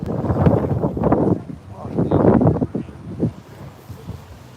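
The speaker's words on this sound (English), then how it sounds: "So it's really windy, guys." Strong wind buffets an outdoor microphone in bursty, uneven gusts, loud low rumbling surges that come and go, with a voice talking through parts of it.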